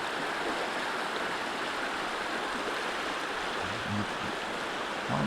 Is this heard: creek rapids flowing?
yes